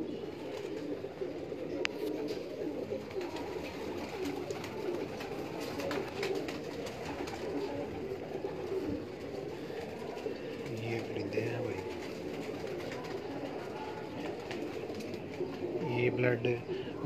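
Pigeons coo low and repeatedly through a busy, noisy pigeon-keeping setting in Sialkot, with scattered chirps and background rumble throughout and voices talking nearby.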